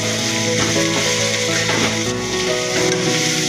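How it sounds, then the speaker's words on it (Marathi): Stuffed masala eggplant fries in hot oil and is stirred, a dense, close, steady sizzle with scraping and clattering of a utensil and no talk. "मस्त असं हे आपण भरलेलं फ्राय वांग करत आहे"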